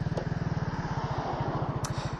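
Vespa GTS 300 Super scooter fitted with an aftermarket exhaust, its engine thumping in a fast steady pulse close by, with a couple of short clicks.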